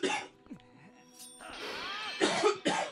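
A man coughs in several harsh bursts close to the microphone, separated by quieter gaps with faint background sounds from a video game.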